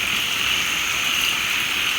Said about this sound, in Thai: ฝนก็ตกหนักด้วยค่ะ ตอนนี้